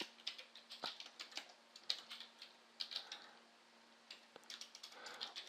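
Keys on a computer keyboard clatter in quick, irregular bursts of clicks with short pauses, faint and close, with no talking.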